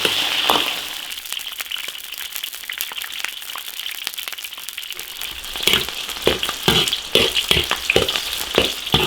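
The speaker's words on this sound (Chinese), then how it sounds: "起锅烧油，芹菜、洋葱炸香" Celery and onion sizzling in hot oil in a wok, a steady bright frying hiss with crackling pops that grow denser and louder toward the end, no voices.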